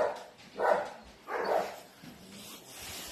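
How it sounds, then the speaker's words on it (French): A small dog whimpering and yipping in a shelter, three brief whiny bursts at moderate distance with a quieter whine trailing off, no talk over them. "il mérite vraiment de sortir d'ici, ce petit chien"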